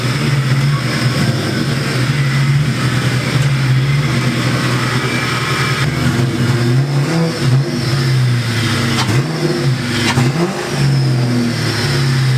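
A Ford Mustang with a starter problem runs with its exhaust droning steadily, close and loud, the engine rumbling at a fairly even pitch with small rises and dips in revs toward the end.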